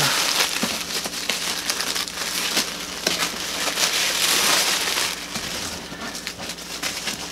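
Ripping open a Chanel gift box brings a close, continuous crinkling and tearing of paper and cardboard, with scattered louder crackles and rustles that run steadily for several seconds and carry no talk.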